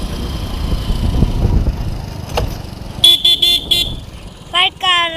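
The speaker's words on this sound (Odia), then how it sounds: "କାଇଁ କାର ଏତେ ଆସୁଛି?" Cars pass along a busy road with a steady rumbling of motor traffic, then several loud car horn toots in quick bursts, with people talking nearby.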